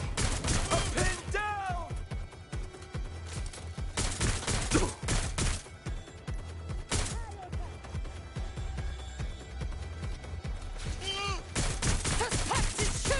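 Gunfire in the Watch Dogs Legion video game: sustained bursts of rapid shots fill the scene, loud and dense throughout, with shouted game voices breaking in over the shooting.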